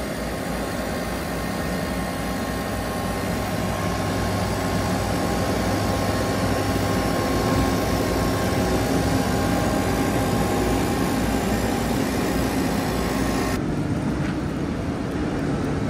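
A farm tractor engine idles steadily at close range, a continuous low rumble that holds even and loud throughout with no voices over it.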